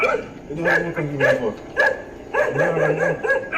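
Small dogs bark at night while chasing a man, giving several sharp, yappy barks in quick bursts with short gaps between them, close and loud, with some vocal sound mixed in.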